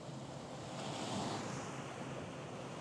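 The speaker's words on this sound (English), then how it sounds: "when the bigger waves come in and really wash up" Waves wash up on a beach with a steady broadband roar, swelling slightly in the middle as a bigger wave comes in, mixed with some wind noise and no voices.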